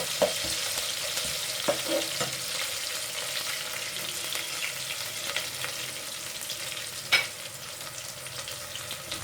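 Sliced onions fry in a pan toward light brown for an aloo matar pulao, a steady close sizzle with a few soft stirring knocks and one sharper clink.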